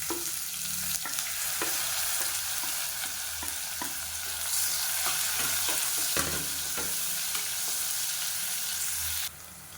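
Steady, loud sizzling of chopped onions frying in hot oil, with occasional soft scraping and stirring clicks throughout, then a slight drop in level near the end.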